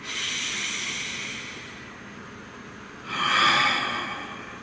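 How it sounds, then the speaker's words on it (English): A single long, deep breath taken close up and alone, a steady airy hiss that swells into a stronger, brighter exhale before easing off. "Nice deep breath."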